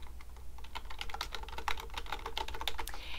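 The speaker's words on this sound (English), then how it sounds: "you're going to type in your domain name here" Fast, steady typing on a computer keyboard while entering FTP login details in the FileZilla client, a dense run of close clicks and key taps with a low hum beneath and no talking.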